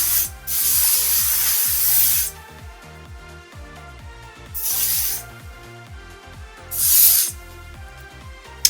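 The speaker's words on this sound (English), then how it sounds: "So I'm gonna just spray this." Three bursts of hissing hairspray from an aerosol can, the first long and the next two shorter, with quiet gaps between them and faint background noise.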